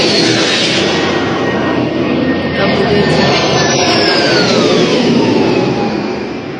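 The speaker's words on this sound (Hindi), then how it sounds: "फाइटर जेट रूस के ईरानियन ड्रोन का पीछा करता है" A MiG-29 fighter jet flies overhead with a loud, continuous roaring engine rush and a slowly shifting whine as it passes, fading slightly toward the end.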